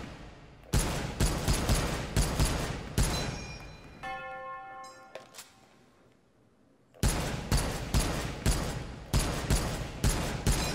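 Rapid M1 Garand rifle fire in a VR shooting game, two bursts of close, loud evenly spaced shots. Between them comes a quiet pause broken by ringing metallic pings.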